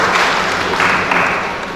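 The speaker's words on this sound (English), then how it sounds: "we give a big clap of hands to that." An audience at a memorial celebration claps steadily for nearly two seconds, a dense, even patter of many hands that fades slightly toward the end.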